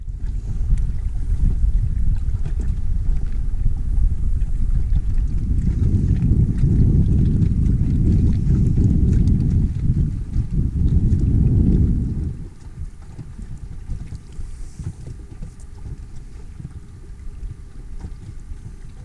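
A sailboat running downwind through a narrows, heavy rumbling wind noise buffeting the microphone for about twelve seconds, then easing to a softer, steadier rush.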